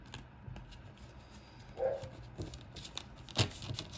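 Tarot cards are shuffled in a quiet room, giving faint, scattered riffling clicks and soft slaps with a couple of sharper snaps, close and uneven.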